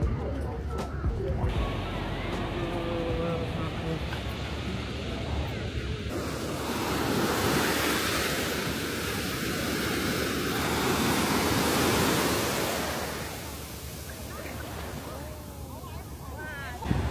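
Ocean surf on a beach at Putuoshan island in Zhoushan, a steady loud wash of breaking waves with heavy wind buffeting the microphone throughout.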